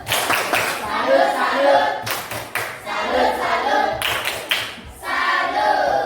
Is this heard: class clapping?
yes